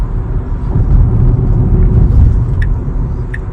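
A Tesla electric car accelerating hard on an Istanbul road, heard as a steady, loud low rumble of road and tyre noise from inside the cabin, with a couple of faint clicks.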